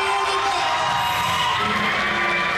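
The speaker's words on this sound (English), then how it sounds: "The crowd goes wild, Trent." A wrestling crowd cheers a new ACW Heavyweight Champion, loud sustained roaring and shouting that fills the whole clip without a break.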